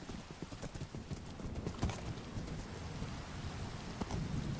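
Horse hooves in a modded Minecraft game, repeated clip-clop steps with a few louder thuds over a steady background of rain, fairly quiet and without speech.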